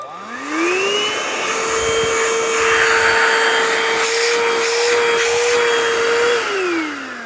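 A vacuum cleaner spins up, runs steadily at a loud, even whine for several seconds while its suction is tested, then winds down at the end.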